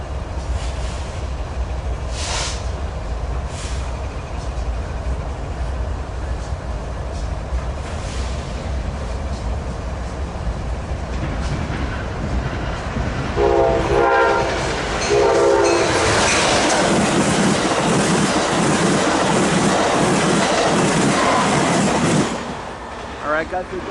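Train 577 to Los Angeles passing through Commerce, a steady rumbling roll that grows louder, with horn blasts partway through and a loud close pass near the end.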